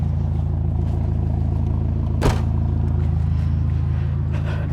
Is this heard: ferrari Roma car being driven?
yes